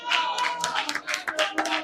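A football crowd at a Sicilian Promozione match applauds a returning player, giving a short, dense burst of clapping from many hands at a moderate distance.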